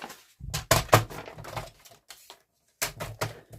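Paper for a junk journal page being cut in a few sharp, irregular bursts of snipping and crinkling, close up, with a brief silent pause before more cuts and no talking.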